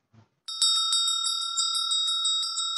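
A small bell rings in a garden with bright, sustained metallic tones, starting after a short faint sound and then pulsing repeatedly in a steady, ringing rhythm, clear and fairly close.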